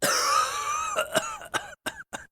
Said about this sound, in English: Kick out mucus and quiet the cough